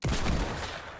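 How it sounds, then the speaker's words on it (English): Hand cannon gunfire in Fortnite Creative mode, a loud sharp blast with a ringing, echoing tail that fades over about a second, heard alone without talk. "I have a hand cannon."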